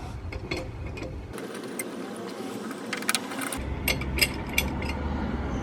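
A C-clamp is unscrewed from the front brake caliper of a Honda Super Cub C125, giving a run of small ratcheting clicks and metallic ticks close up, with a low hum dropping out midway.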